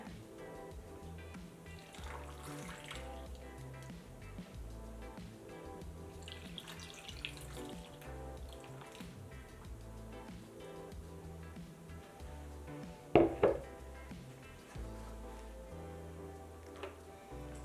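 Watermelon jalapeño margarita, made without ice, is poured from a pitcher into glasses, a soft running trickle heard faintly under background music, with a brief louder splash near the end.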